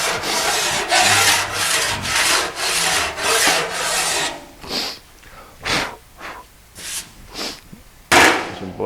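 Fine furred file, about 20 cuts per inch, worked over an aluminum panel for an Austin Healey shroud: a run of regular rasping strokes, then sparser, shorter strokes with gaps between, close and loud.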